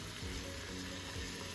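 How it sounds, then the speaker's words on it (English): Diced onion with spicy peppers, jalapeño and poblano, sizzling steadily in a hot pan for chili: a dense, close, continuous frying hiss with no talking. "Okay, well these are sizzling."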